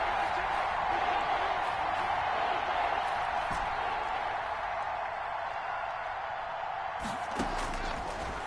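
Football stadium crowd noise during a Denver versus Texas game, a steady dense roar from many spectators building ahead of a big third down, continuous and fairly even with a brief burst near the end.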